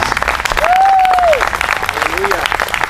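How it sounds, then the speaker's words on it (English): Crowd applause at an outdoor rally in San Marcos, Texas, a sustained wash of clapping throughout, with a whistle-like tone sweeping over it and another fainter one after. "a round of applause for all of the people who keep us safe in our cities and"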